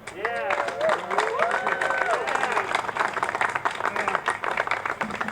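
Audience applause for a speaker at a Black and Brown Unity rally, with steady sustained clapping from a crowd while people cheer and talk over it throughout.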